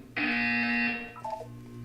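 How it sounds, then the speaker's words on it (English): A loud electronic buzzer in the video game Portal 2 sounds one steady, harsh tone for nearly a second, then drops into a few softer, fading tones. "You will hear a buzzer."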